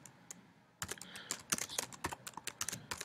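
A name is typed on a computer keyboard while setting up a JeopardyLabs board: a quiet pause, then a quick irregular run of close, crisp key clicks.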